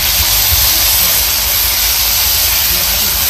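Green chickpeas roasting in a drizzle of oil in a pan, a loud, constant hissing sizzle that stays even throughout, close up and without pauses.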